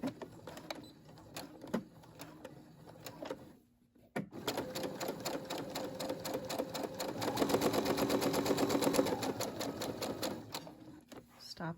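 Brother SE600 sewing machine running a straight stitch, a quick rhythmic mechanical whir that starts after a pause and builds into a steady run while a person talks over it.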